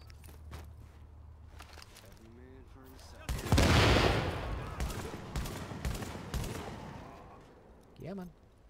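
Heavy automatic gunfire in Tom Clancy's The Division video game, a loud sustained volley erupting mid-clip after quieter sounds, with someone talking briefly before and after.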